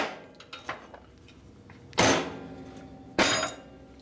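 A few light taps, then two heavy hammer blows on the metal parts of a 1976 Harley-Davidson Sportster XLCH motor, each a sharp loud clang that rings out briefly.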